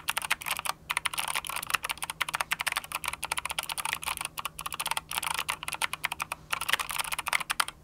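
Fast, steady typing on a GK71 mechanical keyboard with blue, less clicky switches and a solid thunk on the space bar, a close, dense run of crisp keystrokes with no talking.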